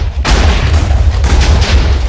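Explosions in the video game Minecraft erupt after a brief quiet moment into a dense, loud, rumbling blast, with further booming surges swelling about a second and a second and a half later, with no talking.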